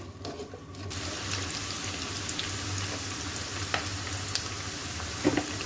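Garlic and onion frying in oil in a pan, a continuous close hiss and crackle that swells after a quieter first second, with occasional stirring clicks.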